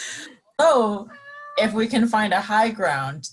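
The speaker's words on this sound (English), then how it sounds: "So that's my cat Kyber." Kyber the cat meows close by, a drawn-out meow followed by a string of tonal cat cries, with a person speaking at the start.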